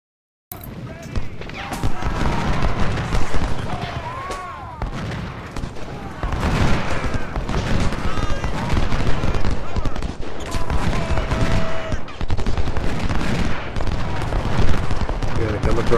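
Cannon and artillery fire in the Civil War strategy game Ultimate General, a dense, continuous barrage of booms and crackling gunfire layered with battle noise, loud and sustained throughout.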